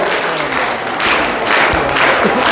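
A dense, loud wash of applause fills the air as an audience at an Arya Veerangana Dal girls' camp event claps steadily to welcome guests, swelling in bursts without talking.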